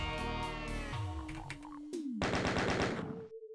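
Rapid gunfire from enemies in the game DSDA-Doom, with quick repeated bursts of shots over game music and effects, close and loud across a few seconds.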